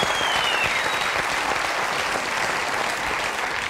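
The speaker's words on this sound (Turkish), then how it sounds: "Peki, alkışlıyoruz." A Turkish television studio audience applauds in a dense, steady wash of clapping from many hands, sustained without pause and heard alone.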